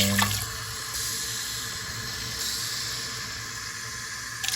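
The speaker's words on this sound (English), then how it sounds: "All right, 4 cups of water." Water pours steadily from a tap into a cooking pot, giving a continuous close rushing hiss that stays even for several seconds, with no one talking.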